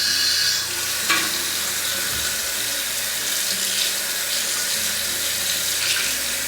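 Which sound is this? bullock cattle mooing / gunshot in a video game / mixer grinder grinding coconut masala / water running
water running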